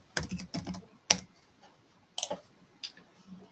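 Sparse keystrokes on a computer keyboard come in short clusters of clicks and taps with quiet pauses between them, close and fairly soft.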